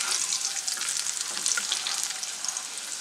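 Potatoes fry in oil with a bright, continuous sizzle and scattered small pops and crackles, close and steady with no talking.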